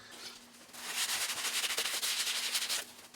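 A steady dry rubbing and wiping with alcohol against a hard surface of a Fisker Karma module, close up, in short repeated strokes with no talking.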